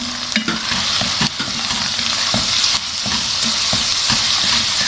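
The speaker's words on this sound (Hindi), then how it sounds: "इसी तरह इसको भून देते हैं थोड़ा सा मसाले में।" Ground spices (red chili powder, turmeric, black pepper, garam masala) frying in a pan for chicken veg biryani: a steady close sizzle with repeated scraping stir strokes, no talk.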